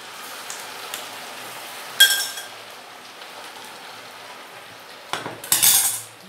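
Pasta with beans is stirred in a pot while water cooks off, giving a soft steady simmer with a couple of sharp metallic clinks of a utensil against the pot.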